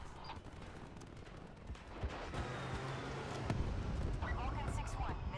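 Gunship cannons firing in Call of Duty Black Ops 4, a muffled, continuous barrage of shots and distant impacts that builds slightly in intensity, with voices speaking over the firing.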